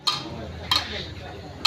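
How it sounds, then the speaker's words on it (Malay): Kangkung belacan, water spinach picked behind the house, being stir-fried in a pan: a steady low sizzle with three sharp metallic clinks of a utensil against the pan, spaced roughly evenly apart. "Sekarang kita sedang menggoreng kangkung yang dipetik di belakang rumah."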